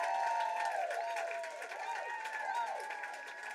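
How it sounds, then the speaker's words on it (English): A baseball stadium crowd murmurs and cheers during a tense moment of a historic pitching start, a steady roar of many voices with whistles and scattered clapping, broad and distant, under a commentator's talk. "And the crowd can sense this."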